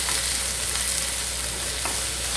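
Chopped onions sizzle steadily in hot oil in a pan for kothu parotta, a dense continuous frying hiss with a few soft stirring scrapes. No one speaks.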